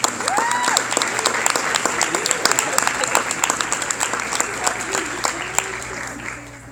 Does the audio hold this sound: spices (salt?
no